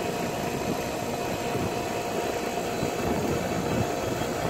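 An air conditioning compressor converted to R407c refrigerant runs with a steady, even mechanical hum and broadband whir, continuous and unchanging throughout, with no talking.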